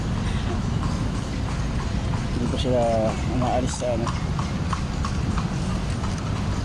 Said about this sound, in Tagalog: Meron din pala kabayo dito.